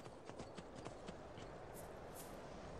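Horse hooves clip-clop steadily in the video game Skyrim as the horse is ridden, a faint, rhythmic run of hoofbeats that fades out partway through.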